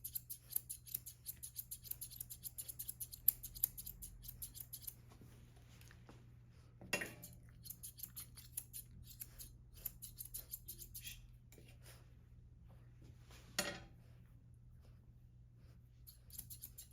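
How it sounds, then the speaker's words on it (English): Scissors snip through a poodle mix dog's coat during grooming, a fast run of small crisp cuts followed by scattered single snips and pauses, close and quiet with no talking. "now we're just gonna scissor what we trimmed here"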